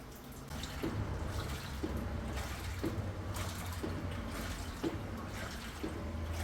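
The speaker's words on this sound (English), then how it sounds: "The water already coming to the tub." Water pours into the tub of a Maytag washing machine, a steady close hiss of filling with soft regular thumps about once per second and no talking.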